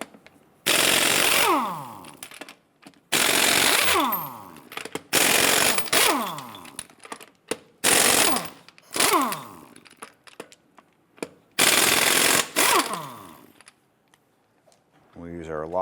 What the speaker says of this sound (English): Go ahead and loosen and remove the lug nuts.